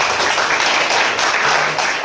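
A church congregation at a summer revival service applauds together, loud and close, a dense wash of clapping that holds steady throughout.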